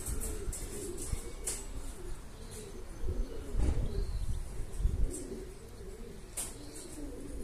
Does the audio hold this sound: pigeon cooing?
yes